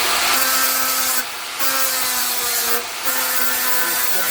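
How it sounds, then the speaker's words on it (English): Angle grinder fitted with a sanding disc working over a forged axe head made from a ball peen hammer, a loud continuous abrasive whir broken by two short pauses as the disc lifts off the steel. "So I'm going to clean it up using a angle grinder"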